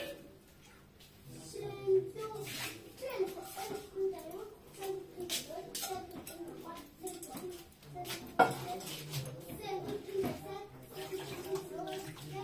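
Water runs while a sieve and a cooking pan are washed in a kitchen, with soft clinks of metal and splashing close by and someone talking over it.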